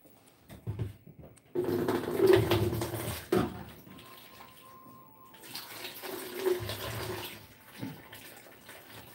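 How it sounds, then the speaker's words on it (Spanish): Milk pours into a pot of champurrado in a home kitchen, a close, gurgling liquid stream in a few bursts with quiet pauses between, no talking. "Miren, voy a agregarle la leche."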